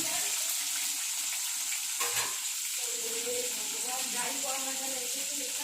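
Potatoes frying in a pan, giving a steady, close sizzle that runs throughout with a brief stirring scrape partway in.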